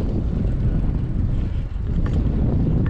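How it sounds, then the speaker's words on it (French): Strong wind buffets the microphone on an open road near the Caspian Sea in western Kazakhstan, a loud, continuous low rumble with no other clear sounds. "sauf du vent, que j'ai bien sûr de face, pour ne pas changer, même au Kazakhstan"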